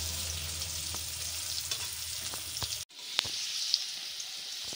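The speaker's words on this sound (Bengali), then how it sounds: "তেল গরম হয়েছে, আমি আলু আর মধু গুঁড়ো ভেজে নিই" Potatoes fry in hot oil with turmeric for a papaya mutton curry, giving a steady close sizzle broken by a few sharp clicks of a spatula against the pan, with no talk.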